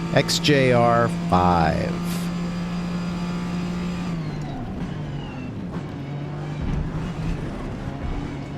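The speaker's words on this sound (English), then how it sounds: "driving a Jaguar XJR-5" Jaguar XJR-5 race car in a racing simulator at Daytona, a steady engine drone held at constant pitch, then fading and shifting; a voice talks briefly at the start over the engine.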